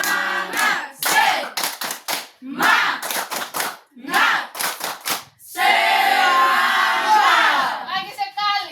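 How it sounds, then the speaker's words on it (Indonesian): Group rhythmic clapping in a classroom clap routine: loud, close bursts of several quick claps in patterned sets, followed by a sustained stretch of cheering and voices near the end. "Tepuk semangat."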